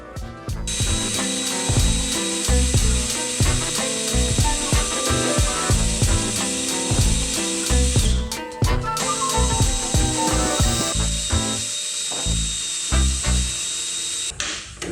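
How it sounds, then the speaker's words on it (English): Power drill boring out spot welds on the steel body of a 1986 Toyota FJ60, a loud, close whine in repeated bursts with short pauses between. "before we make the cut, you guessed it, we got more spot welds to drill out"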